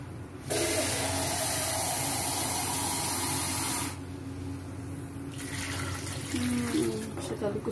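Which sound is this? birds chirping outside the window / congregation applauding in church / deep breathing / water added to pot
water added to pot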